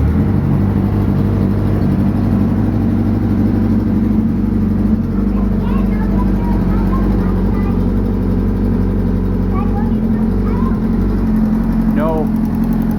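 A homemade side-by-side utility vehicle's engine runs loud and close at a steady idle with a constant low rumble, while a person talks over it at intervals.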